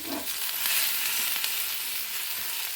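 Onion, green chilli and carrot fry in a pan, giving a loud, steady sizzling hiss up close with no talk.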